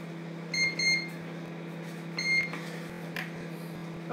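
A microwave oven hums steadily while its keypad gives two clear beeping bursts, each a short cluster of electronic tones, followed by a softer click and the hum carrying on, fairly quiet and close.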